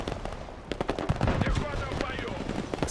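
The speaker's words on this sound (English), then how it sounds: "Squad machine gun." A squad machine gun firing in the modern warfare strategy game Broken Arrow, with rapid overlapping bursts and scattered shots against background battle noise, fairly close, under someone speaking.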